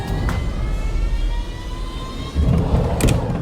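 Red Bull RB17 engine in a racing sim video game: a steady, high-pitched whining engine drone that holds throughout and swells slightly louder near the end, with no voice.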